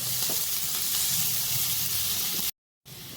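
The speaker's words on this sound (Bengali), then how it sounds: "এটা একটু ভালো করে একটু হালকা লালচে লালচে করে ভেজে নেবো, বাদামি কালারের।" Chopped garlic sizzles loudly and continuously in a pan, a close, dense frying hiss with light stirring, cut by a brief silent gap before the sizzle resumes.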